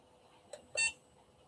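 A new charger for CNHL LiPo batteries gives a short faint chirp and then a louder electronic beep a moment later, close by against a quiet room.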